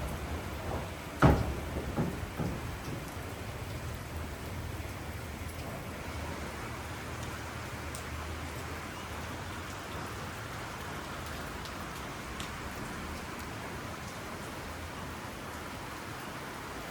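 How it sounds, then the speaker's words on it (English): Steady rain falls outdoors at a lodging, a continuous soft hiss of drops on surfaces lasting throughout, with one brief knock or thump near the start and no talking. "it is still raining"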